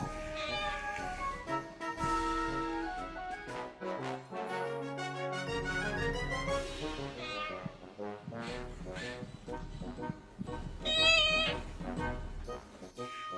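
A cockatoo imitates a cat, giving repeated meow-like calls among kittens, layered with other sounds and some music-like tones throughout.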